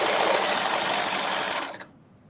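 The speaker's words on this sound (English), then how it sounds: "it just sews so much quicker because we did that basting stitch." A sewing machine runs steadily over a basting stitch on a Simplicity 9790 dress, a dense, continuous motor whir close by that stops abruptly near the end.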